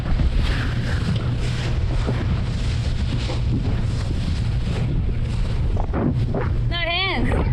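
Sailboat driving fast at about 25 knots in 20 knots of wind, loud continuous rush of water and wind buffeting the microphone, with a brief whistling squeal near the end.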